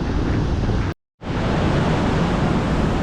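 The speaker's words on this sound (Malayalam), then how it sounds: "ഇതാണ് കോവളം ബീച്ച്" Waves at Kovalam beach in Thiruvananthapuram make a dense, steady roar of surf and wind. The sound cuts out for a brief moment, then comes back just as full.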